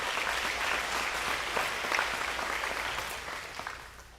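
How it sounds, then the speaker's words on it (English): Sustained applause from an audience at an agricultural appreciation banquet, dense and even, holding steady before gradually tapering toward the end. "Let's give him a round of applause."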